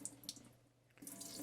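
Excess water poured off soaking seeds being germinated for a hydroponic garden, a short splashing trickle that fades to a pause and then resumes more strongly, close by.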